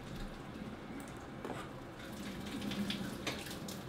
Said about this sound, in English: I'm draining my pickles from the water that they were boiling in